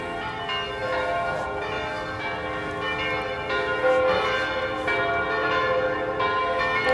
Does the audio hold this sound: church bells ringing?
yes